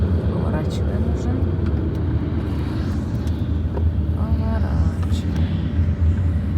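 A car rolls steadily through a small village called Post Bauerhen, its engine and road noise forming a constant loud rumble inside the cabin while a person talks over it.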